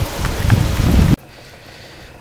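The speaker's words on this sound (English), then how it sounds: "There comes some of the rain beginning to blow sideways now as we start getting some gusts of wind." Rain and wind gusts from Tropical Storm Ida, a loud rushing roar of wind-driven rain outdoors that cuts off abruptly midway into a much quieter steady rain hiss.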